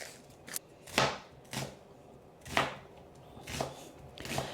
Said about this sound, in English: When we're cutting it, we just want to half the onion and then put that half in half, and we're gonna slice it all the way down.